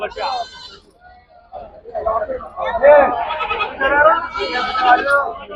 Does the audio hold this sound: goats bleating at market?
yes